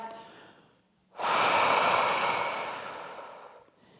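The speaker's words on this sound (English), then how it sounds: "Final deep breath" A single deep, breathy exhalation during a Pilates chest-opening stretch, swelling suddenly and loud, then fading slowly over a few seconds, close up with no talking.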